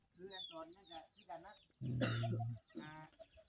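Chickens clucking in a rural Thai yard, several short calls rising between stretches of nearby conversation, with a louder burst of flapping or rustling midway.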